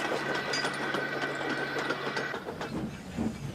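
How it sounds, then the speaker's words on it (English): A steam engine rolls along the rails in a children's animated railway show, a steady rumbling run with rhythmic clickety-clack beats and a hissing wash of steam, fairly close and continuous, with no voices. "he chuffed away as fast as his boiler could bubble"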